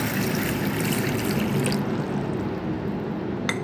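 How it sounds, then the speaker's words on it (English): Water is poured onto half a cup of whole moong dal, a steady, continuous pouring and trickling wash that runs the full length without pause and without any talking. "I am going to add water to it"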